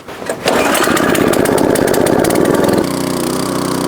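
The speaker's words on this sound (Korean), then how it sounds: "시동을 걸어보겠습니다" A 6.5 hp four-stroke dual-shaft cultivator with the throttle set midway pulls over and catches, then runs with a loud, steady engine drone that drops to a slightly lower, even idle near the end, close and alone.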